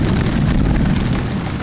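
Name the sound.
rolling thunder during a late summer storm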